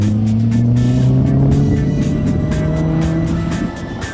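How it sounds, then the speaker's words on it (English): A 1980 Lotus Esprit Turbo sports car drives close by, its engine droning loud with rising and falling pitch as it accelerates, then easing off and fading slightly near the end. "A 1980 Lotus Esprit Turbo in eye-melting Essex petroleum colours"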